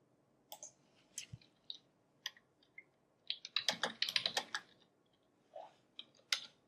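Typing a URL on a computer keyboard: quiet, irregular key clicks in short bursts, with a denser flurry of rapid taps midway and a few isolated presses at the end. No one speaks.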